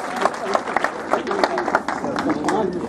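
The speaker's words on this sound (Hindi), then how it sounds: "जोरदार तालियां।" A crowd claps at a mini-marathon medal ceremony in Varanasi, with dense, uneven applause close by and steady crowd noise and talk in the background.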